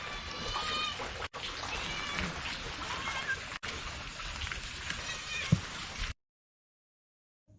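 A cat meows repeatedly in short calls beside a spot where fish is being cleaned outdoors, with a steady hiss of rain or running water under it and a sudden sharp knock near the end before the sound cuts to silence.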